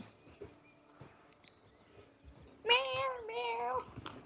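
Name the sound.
person imitating a cat meowing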